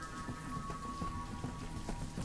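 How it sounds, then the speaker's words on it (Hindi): Rain beginning to fall over a farming settlement in the video game Banished, a dense even hiss with scattered small drop ticks, steady and moderately loud throughout, and no voices. "बरसात शुरू हो गई है।"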